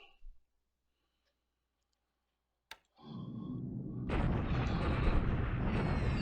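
Bombing explosions in a WWII strategy game, a Japan versus Allies match in January 1942 striking Chinese troops: a sharp click, then a swelling wall of rumbling blast noise that grows louder and stays dense.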